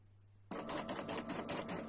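Embroidery machine stitching a flower design starts up abruptly after a brief quiet hum, then runs at a fast, steady needle rhythm, loud and close, with no talking.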